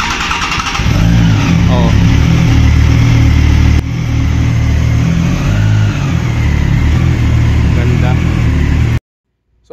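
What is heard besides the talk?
Triumph Tiger 660 motorcycle engine starting and revving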